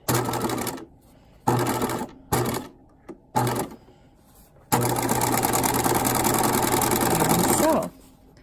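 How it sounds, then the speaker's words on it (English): A sewing machine edge-stitches along the folded edge of a patch pocket. Several short, loud bursts of rapid stitching are separated by pauses, then a longer continuous run of stitching follows before it stops. "is to edge stitch along the fold. So I'm going to place one toe off and back stitch"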